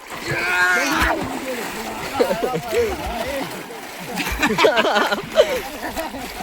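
Cold river water splashes and sloshes after someone takes a dip in the Sabarmati River, with intermittent splashes mixed under excited people talking nearby.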